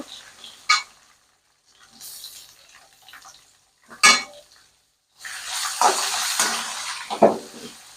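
Onions stirred in a pan while making poha, a few short scraping, sizzling bursts separated by pauses, then a longer, denser stretch of stirring near the end, close and fairly clear.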